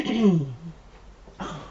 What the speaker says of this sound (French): qu'est-ce que j'ai qui me racle la gorge?